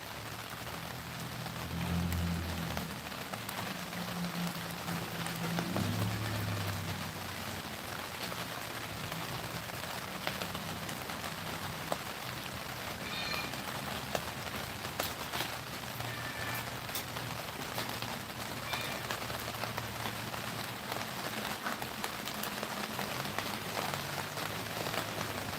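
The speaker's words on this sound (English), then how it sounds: "Listen to that rain." Steady rain on a surface during a winter day, a dense, even hiss of drops that continues throughout, with a low murmur of voices early on.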